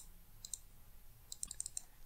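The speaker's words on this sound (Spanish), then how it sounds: "Hago el clic" Sharp, faint mouse clicks on a computer while drawing map layers and points, a pair near the start and a quick cluster of five or six later, over a quiet room hum.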